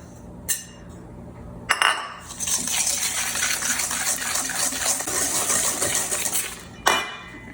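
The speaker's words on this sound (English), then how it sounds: "we're going to whisk these with the sugar" A whisk beats eggs with sugar in a bowl, giving a steady, busy clatter and scraping that runs for about five seconds between sharp clinks of metal against the bowl, close and with no talk.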